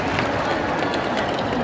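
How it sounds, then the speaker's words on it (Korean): A congregation at an Easter union revival service in Changwon claps together in a dense, steady burst of applause that fills the space and holds evenly throughout. "오늘 하나님께 영광의 박수를 돌려드리고"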